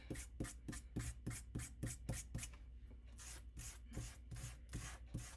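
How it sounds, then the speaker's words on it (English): Quick, rhythmic rasping strokes of a sanding disc lightly rubbing glossy cards, about a dozen back-and-forth rubs, close and fairly quiet. "I'm going to take my sanding disc and just kind of lightly"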